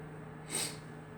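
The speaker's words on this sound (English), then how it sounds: "And sniffles are back." A single short, close sniff through the nose, quick and breathy, heard once in an otherwise quiet room during a dice-rolling challenge.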